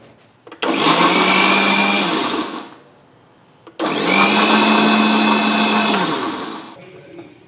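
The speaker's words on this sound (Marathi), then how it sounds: "आता मिक्सरमध्ये टाकणार आहे मी सगळं." A mixer grinder blends boiled spinach and roasted flour in two loud bursts of whirring, each running about two seconds before winding down, with a short pause between them.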